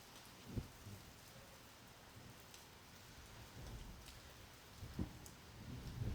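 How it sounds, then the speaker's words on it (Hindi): Steady rain falling on surfaces, a constant hiss with occasional heavier drops and low thumps, fairly quiet and even throughout. "ऐसे बारिश तेज हो रही है।"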